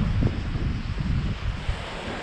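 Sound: waves in a bay by the sea

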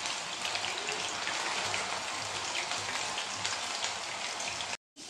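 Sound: coated potato rings frying in hot oil

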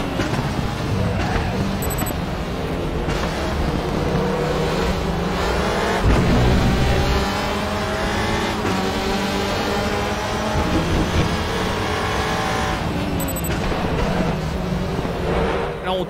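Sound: race car engine driving in the WTCR 2018 video game

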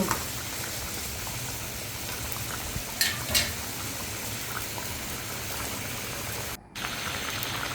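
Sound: stirring koi fish curry in a cooking pot

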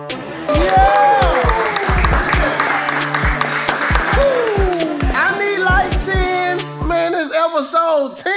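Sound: audience applause

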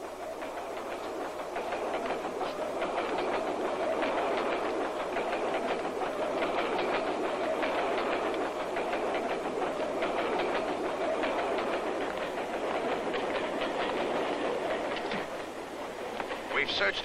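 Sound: train interior, wheels clattering on rails

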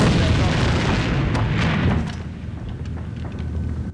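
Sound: grenade explosion in a video game

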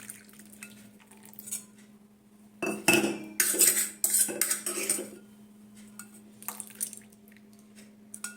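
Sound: pouring Amul milk into a pan

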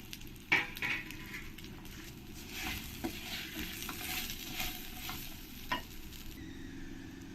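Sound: stirring ginger and panch phoron frying for khichdi

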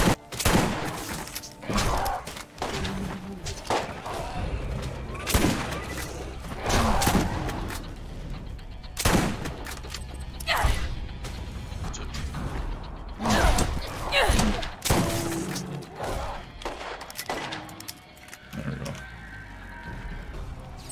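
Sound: shotgun and revolver gunfire in Borderlands video game

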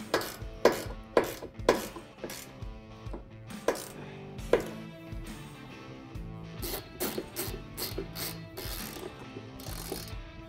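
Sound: tightening nuts on a Can-Am cargo rack

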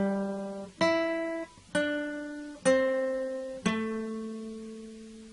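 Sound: guitar notes

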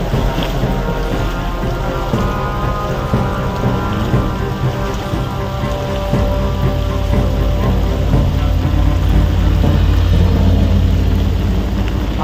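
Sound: heavy continuous rain falling

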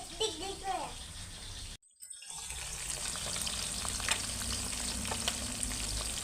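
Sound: food frying in hot oil

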